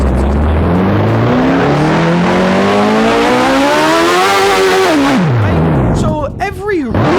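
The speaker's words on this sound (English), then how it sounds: "You probably heard this thing roaring, that exhaust." A loud motorbike exhaust in a Roblox video game roars and climbs in pitch as it revs hard, then drops and stutters through quick rev changes near the end, with no talking.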